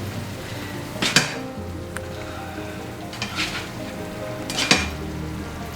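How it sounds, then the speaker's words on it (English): Food for Thai coconut chicken being tossed in a pan on the stove, with a few clattering metal knocks and soft sizzling scrapes in irregular bursts, close and moderately loud. "Now I'm just going to toss this all together and throw some stuff on the stove"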